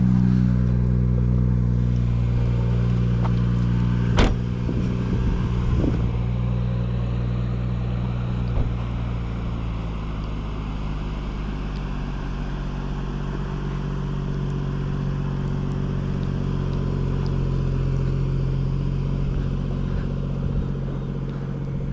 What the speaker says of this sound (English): let's fire up this 440i